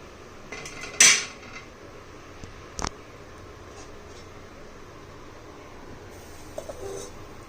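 A metal lid set onto a cooking pot of vegetables with onion and garlic gives a sharp clatter, followed by a second brief clink a couple of seconds later, in an otherwise quiet kitchen.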